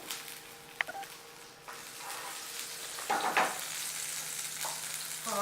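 Ghee sizzling in a pan while making a tomato egg omelette, a soft steady fry with a brief clink and a louder hissing burst midway.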